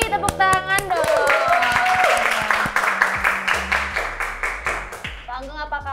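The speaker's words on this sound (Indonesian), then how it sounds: "Tepuk tangan dong." An audience claps at a film event for the lead actor, Pak Anggong Supardi, with a burst of sharp, close hand claps that settle into steady applause. Voices speak over it throughout, and a rhythmic tapping continues near the end.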